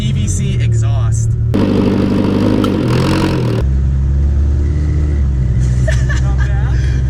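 A car engine fitted with a PVC pipe exhaust idles with a low, droning rumble, swelling louder for a couple of seconds as it revs, then settling back to a steady hum.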